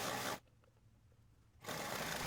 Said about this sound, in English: we will stitch all along the edge of the bias tape